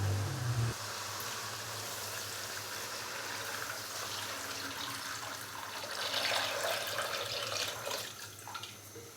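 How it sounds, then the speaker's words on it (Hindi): Water pours steadily into a pot of fried spices for chicken mandi after a brief low thump, a continuous splashing gush that swells slightly near the end. "अभी मैं इसके अंदर पानी डाल दूंगा।"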